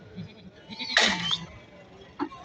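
A goat bleats loudly once at a livestock market, a strained wavering call close by, with a fainter short bleat following amid a low murmur of market background.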